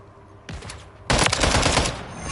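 Gunfire in Call of Duty on PS5: a short burst of automatic fire, then a longer, louder sustained volley of rapid shots, close and dense, with no speech.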